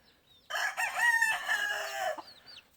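Hatch-bred gamefowl chickens on a farm: a close, loud rooster crow with clucking, a single call lasting about two seconds against a quiet background.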